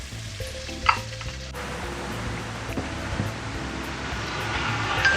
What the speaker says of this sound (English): just to cook the onions out for a very long time